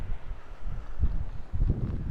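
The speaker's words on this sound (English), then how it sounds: "Quite windy down here" Wind gusts buffet the microphone at a red sand beach below a volcano flanked by lava flows, a steady low rumble rising in stronger surges near the middle and end, with no talk.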